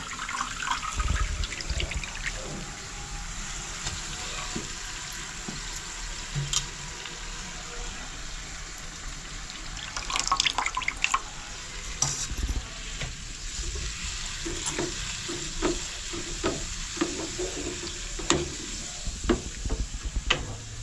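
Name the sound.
potatoes added to boiling turmeric water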